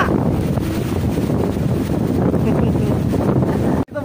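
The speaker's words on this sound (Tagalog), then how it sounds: "Dito po tayo ngayon sa lokasyon ng Bagyo kung saan malakas na ang hangin." Strong typhoon wind roars and buffets the microphone outdoors, a loud continuous rumbling rush with no letup, briefly dropping out near the end.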